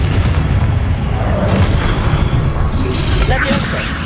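Confringo fire-blast spell from Hogwarts Legacy going off in dense, booming bursts amid combat noise, loud and close throughout, with overlapping battle effects and voices.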